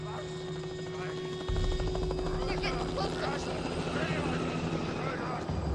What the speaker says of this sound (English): Or a helicopter.